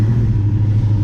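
Coyote-swapped Foxbody Mustang with a new 6-speed taking up its clutch and starting to move, a steady low engine rumble, loud and close for just over a second, with no talk.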